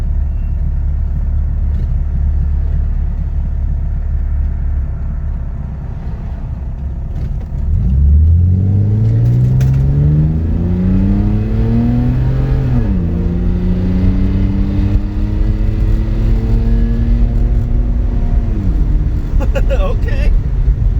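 A BMW E36 with a cut exhaust idles with a low rumble, then pulls away hard from a stop, its loud engine note rising through several gears with short dips at each shift. The sound is close and there is no talking.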